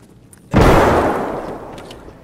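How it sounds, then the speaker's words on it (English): A frag grenade goes off in a video game, a sudden loud boom with a long rumbling decay that fades over a couple of seconds after a short quiet lead-in. "I'm gonna pop this door and frag it."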